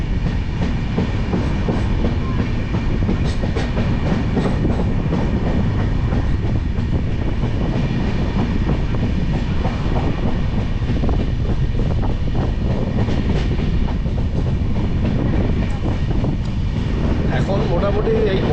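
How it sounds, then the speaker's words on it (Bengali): The Kanchankanya Express passing Dankuni Junction gives a loud, steady roar of wheels and carriage rumble with faint clickety-clack, heard from aboard and continuous throughout. "আর এই মুহূর্তে আমরা ডানকুনি জংশন পার করছি। এই হচ্ছে কাঞ্চনকন্যা এক্সপ্রেস।"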